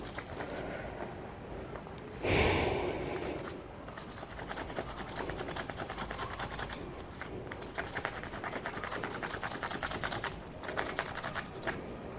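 Plastic scale rubbed briskly to build up static charge, a steady close scratchy rubbing with quick repeated strokes and a brief louder swipe early on.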